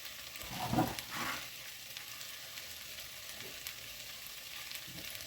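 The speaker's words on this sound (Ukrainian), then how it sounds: "Гриби смажу на великому вогні, картоплю смажу на середньому вогні." Constant soft frying sizzle of mushrooms on high heat and potatoes on medium heat fills the clip, with a brief louder stir and scrape near the start, no voices.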